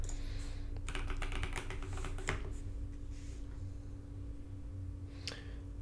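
Quick bursts of typing on a computer keyboard, entering a username and password, with rapid close clicks over a low electrical hum, followed by a pause and a final keystroke.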